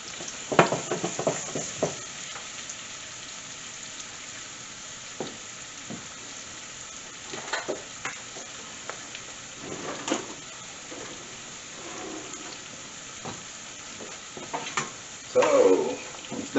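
Vegetables sweating in a pan for jerk rice, a soft steady sizzle close by with occasional stirring scrapes and clinks, quiet throughout.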